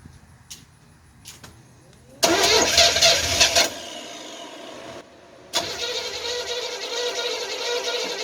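An Oldsmobile carbureted engine cranks briefly, catches and roars loud for about a second, dies back to near quiet, then restarts and settles into a steady, fairly loud run.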